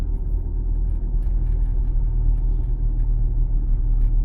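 A car's interior rumble and engine drone hold steady and close as it drives slowly over a railway level crossing during a driving exam route in Lviv, with no distinct track thumps standing out.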